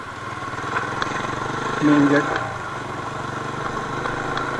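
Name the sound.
Bajaj Pulsar 180 motorcycle engine idling with DB killer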